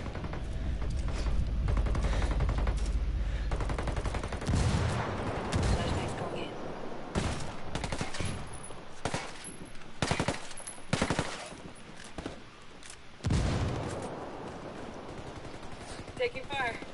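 Gunfire in the shooter Ghost Recon Wildlands during PvP play, loud bursts of automatic and single shots in irregular clusters over rumbling background, with voices talking at times.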